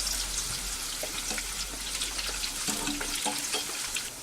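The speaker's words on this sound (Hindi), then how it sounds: "अब मैं इसमें डालूंगी गोभी। इसे मैं 2 मिनट तक लो फ्लेम पे फ्राई करूंगी।" Cauliflower florets fry in hot oil over a low flame, giving a steady, close hiss of fine crackling sizzle with a few brief pops throughout.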